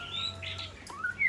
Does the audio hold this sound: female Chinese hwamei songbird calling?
yes